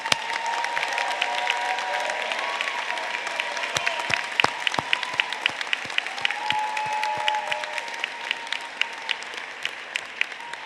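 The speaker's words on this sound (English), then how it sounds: "Can we give them a round of applause?" A graduation audience gives law school graduates a sustained round of applause. The clapping is broad and steady, with sharp individual claps standing out near the front and no talk over it.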